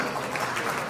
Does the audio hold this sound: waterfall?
no